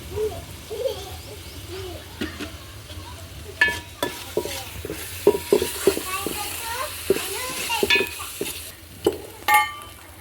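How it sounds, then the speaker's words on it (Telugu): Green chillies, raw mango pieces and curry leaves fry in a pan over a village-style wood-fired stove, with soft sizzling and stirring taps and scrapes. Birds call in the background. "పచ్చిమిర్చి నాలుగు చిన్న మామిడికాయ ముక్క వేయించుకుందాం కరివేపాకు"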